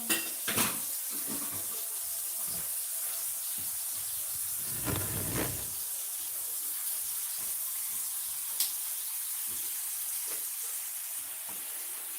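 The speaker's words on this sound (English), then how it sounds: "Get me some water running." Tap water runs in a steady hissing stream, with a few clinks of dishes and handling noises near the start.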